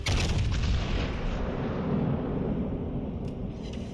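Warship guns fire in World of Warships Legends with a heavy, booming blast whose low rumble rolls on and slowly fades over a few seconds, loud and close with no talk.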